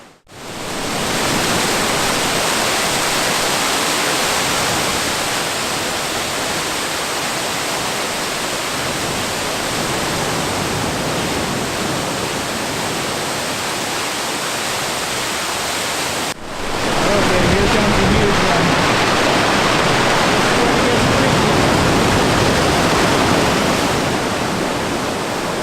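Waterfalls pour inside a sea cavern on Vancouver Island, a loud, unbroken roar of rushing water that fills the space, briefly cutting out and returning even heavier partway through.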